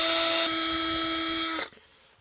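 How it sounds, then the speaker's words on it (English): A power drill bores a hole through the chassis of an Arrma Outcast 8S EXB RC car, a loud steady whine that holds for about a second and a half before cutting off abruptly. "Now you just got to drill that hole."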